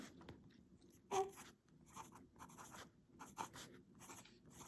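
A fountain pen with a medium nib, inked with Diamine Chocolate Brown, scratches faintly across paper in soft, irregular strokes, with one slightly louder tap partway through and quiet room tone between.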